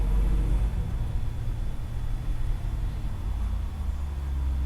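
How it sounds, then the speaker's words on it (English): A steady, low engine rumble of a large delivery truck passing outside drones continuously, moderately loud throughout, with no voices. "That sounds like a FedEx truck."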